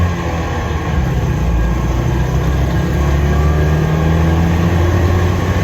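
A Citroen 2CV, bought unseen and on its first drive with worn brakes, runs steadily from inside the cabin, its loud continuous engine drone and road rumble filling the whole stretch without talk.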